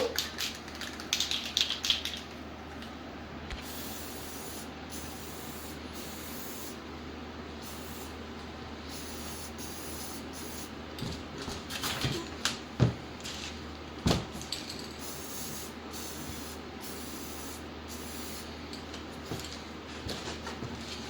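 Spray gun laying a coat of paint on a 5.4L 4V engine, a steady broad hiss running through the whole stretch with brief pauses and a few knocks, fairly close and moderately quiet.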